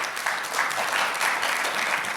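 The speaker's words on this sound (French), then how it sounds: "Est-ce qu'on peut l'applaudir, je vous en prie" Audience applause at an opening session of a high-level roundtable on Black health, a steady, dense clapping from a room of people that holds evenly throughout, fairly close and without voices over it.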